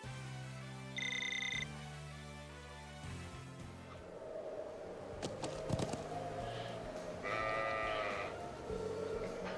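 Sheep in the video game Trails of Cold Steel bleat several times in clear, up-close cries, mixed with game music and bright chiming electronic tones.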